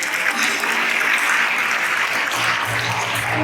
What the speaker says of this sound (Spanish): Dale un aplauso para que se anime